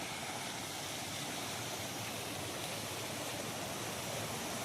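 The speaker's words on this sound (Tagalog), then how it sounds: "Ang lakas ng fountain nila, oh." A strong water fountain near a town hall gushes in a steady, dense rushing hiss, even and unbroken throughout, with no voices.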